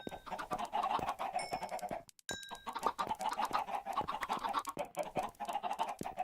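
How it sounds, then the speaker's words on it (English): Chickens in the Minecraft video game cluck in a busy, continuous stream of short, clipped game-sound calls, moderately loud and unaccompanied by talk, with a brief pause partway through. "Come, chickens. Come get your seeds."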